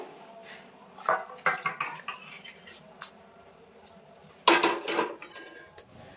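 Rohu fish curry with potatoes is tipped from a pan into a serving dish, with metal clanks and scrapes of pan and spoon in short clustered bursts, fairly close and quiet between.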